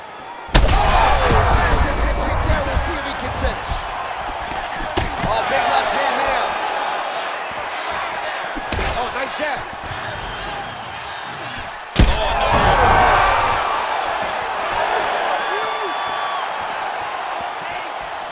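Heavy strikes land in an EA Sports UFC 5 bout between Sean O'Malley and Chihiro Suzuki, with several loud thudding impacts over a roaring, swelling arena crowd.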